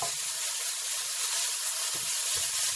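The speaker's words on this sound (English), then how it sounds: "Frying up some bacon with a little bit of garlic." Continuous bright sizzling of bacon frying with garlic in oil in a pan, an even hiss with occasional soft pops and crackles.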